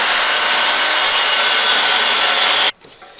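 A loud, steady grinding whir of a drill boring into material, continuous for nearly three seconds, then cutting off abruptly to quiet.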